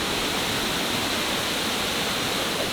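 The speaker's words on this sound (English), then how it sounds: "Campbell Falls is a 50-foot tall, 2-tier combination plunge and cascade waterfall." Campbell Falls, a 50-foot two-tier plunge and cascade waterfall near New Marlborough, Massachusetts, roars as a steady, dense wash of falling water with no other sounds.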